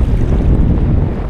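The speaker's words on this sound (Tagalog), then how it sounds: "Salubungin natin yung lakas ng hangin" Strong sea wind roars steadily into the microphone aboard a small fishing boat, a loud, unbroken buffeting rush with water noise beneath and no talk.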